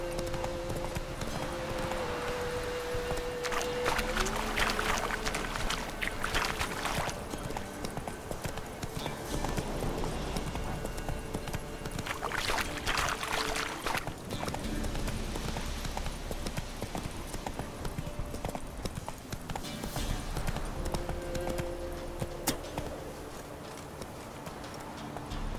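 A horse gallops in The Witcher 3, its rhythmic hoofbeats pounding steadily throughout over a dense game soundscape, with brief bursts of heavier clatter.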